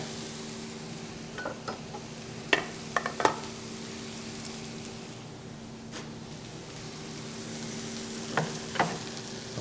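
Mushroom sauce cooks down in a pan with a quiet, steady sizzle and a few scattered clinks and scrapes of stirring, close by and with no voices.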